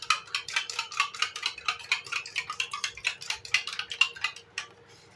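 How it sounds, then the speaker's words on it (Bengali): An egg is whisked in a bowl for bhetki fish fingers: quick, even clicking strokes of the whisk against the bowl keep a steady rhythm, close up and alone, with no talking. "ডিমটাকে আমি ভালো করে ফেটে নেব।"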